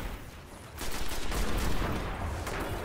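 Gunfire from the video game Destiny comes as a dense, loud, continuous volley of rapid shots that builds after a brief quieter start, with no talk over it.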